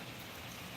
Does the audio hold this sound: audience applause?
no